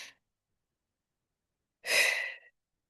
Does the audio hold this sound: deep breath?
yes